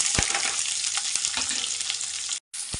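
Sliced onions sizzle and fry steadily in hot oil with masala spices for a chicken gravy, a loud continuous crackle with faint stirring, briefly cut off near the end.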